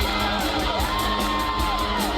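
A crowd cheers and whoops loudly for a couple of seconds, a continuous roar of many voices with scattered yells and no speech over it.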